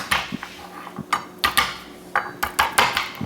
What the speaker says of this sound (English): get in some fresh garlic. We'll just give this a couple of whacks.